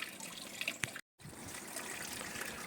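Water trickles and splashes steadily from the waterfall outlet of a three-tier garden pond filter, a soft, fairly faint continuous flow with one brief dropout partway through.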